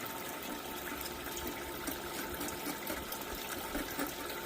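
Low-volume water running steadily over a Miller table, a continuous close wash and trickle with no breaks and no voices.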